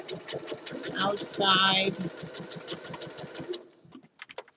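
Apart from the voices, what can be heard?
sewing machine stitching a shirt dress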